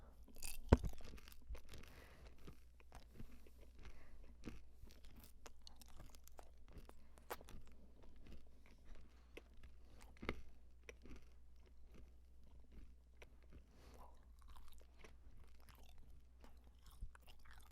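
Several pieces of Excel gum, mint, cinnamon and juicy fruit flavours, chewed at once, making quiet, steady wet crunching and smacking close to the mic for a long stretch, with no talking.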